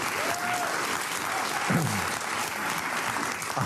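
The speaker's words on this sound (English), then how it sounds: "The Van Jones clapping." Audience clapping fills the room steadily throughout, with a brief murmur of voices partway through, on a podcast about a 2024 election book.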